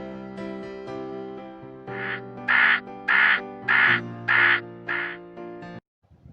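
A crow caws several times in a steady, evenly spaced series of loud, harsh calls, close by with no other sounds.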